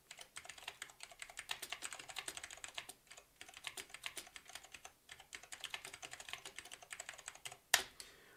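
Rapid, irregular keystrokes on a 1986 IBM PC Convertible keyboard, close and clear with no voices, pausing briefly twice before a sharper, louder clack near the end.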